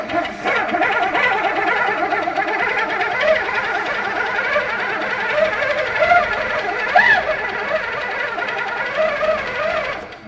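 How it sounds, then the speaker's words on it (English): A sewing machine stitches continuously, giving a close, even mechanical whirr with a fast needle rhythm that holds steady for the whole stretch. "do some tie-off stitches, and then you can do your stitching"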